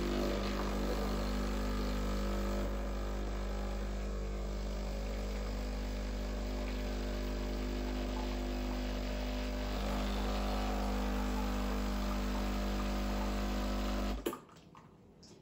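A Breville Barista Express BES870 espresso machine dispenses hot water with a steady, loud droning pump hum that holds for about fourteen seconds, then cuts off abruptly near the end.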